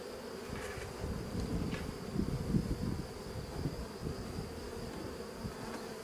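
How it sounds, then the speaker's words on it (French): An overactive honeybee swarm at a hive makes a steady, dense buzzing that holds without a break, with occasional individual bees droning past nearer by, moderately quiet. "un essaim comme ça, il est hyper actif"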